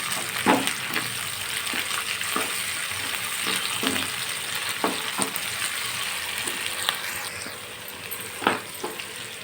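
Ginger paste fries in a pan while being stirred, giving a steady close sizzle broken by repeated scraping and tapping of a spoon against the pan, with no speech.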